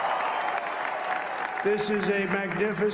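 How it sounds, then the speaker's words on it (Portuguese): A crowd applauds a politician's election victory speech with steady clapping throughout, while a voice talks over it partway through. "É isso que iremos conquistar e o público todo aplaude."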